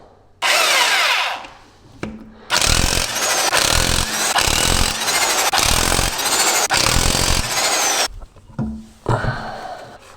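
A power tool, likely an impact wrench, buzzes loudly in several bursts while removing a car wheel for a sticky brake caliper repair: one short run, a brief pause, then a long rattling stretch of about six seconds.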